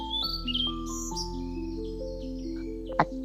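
Several songbirds chirping and trilling in short, high phrases over a soft steady musical drone, calm and fairly faint, with no voices.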